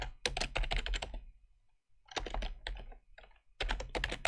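Bursts of rapid clicking on a computer keyboard, up close, in three short runs of typing separated by quiet pauses, no voices.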